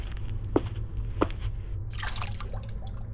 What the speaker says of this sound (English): I was suddenly distracted by the sound of dripping water nearby